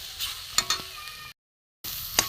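Boiled potato stirred into a banana filling in a pan: soft scraping and a few sharp spatula knocks over faint sizzling, close and quiet, broken by a short silent gap.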